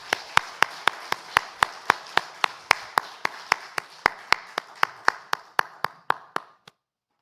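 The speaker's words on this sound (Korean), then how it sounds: "하나님께 영광의 박수 올려드립니다" A church congregation claps in steady unison during a Sunday worship service, about twenty crisp, evenly spaced claps that carry through the room and stop abruptly at the end.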